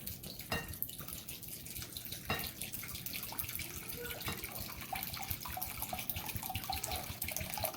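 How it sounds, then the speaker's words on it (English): Bourbon poured from a bottle over bacon in a container, a steady splashing stream of liquid that runs without pause from start to finish. "And I'm just going to pour it on top."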